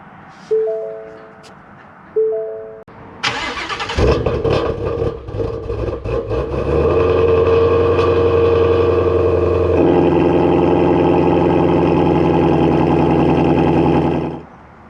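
Whipple-supercharged Shelby GT350 V8 fired up from cold: two starter-like chirps, then the engine catches with a loud roar that settles into a steady, high fast idle, held close and loud until it cuts off at the end.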